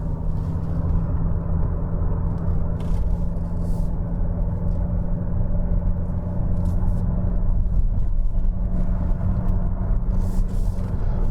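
Steady low engine rumble and road noise from inside a moving Mazda CX-5 diesel driving downhill on an alpine road, continuous and fairly loud with no talking.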